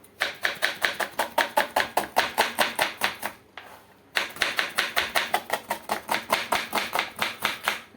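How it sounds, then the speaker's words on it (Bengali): Rapid, evenly spaced knife strokes chopping an onion on a board, about four per second in a close, loud burst, a brief pause, then another quick run of chops. "তারপরে পেঁয়াজটাকে এইভাবে কেটে নেবো"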